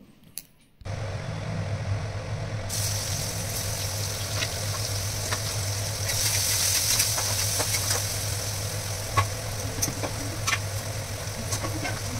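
A pan of Bengali fish curry (macher jhal) frying on a stove gives a steady, close sizzle over a low hum, with faint clinks and scrapes scattered through and no talking.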